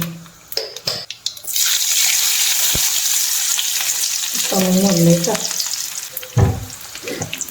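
Loud, steady sizzling of mustard seeds frying in hot oil, with a few clinks and light stirring scrapes at the start and near the end.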